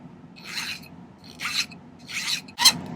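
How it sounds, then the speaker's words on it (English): Four slow, raspy strokes of a file scrape across a silver ring shank, each a separate gritty pass with short pauses between, the last one sharper. "file these flat."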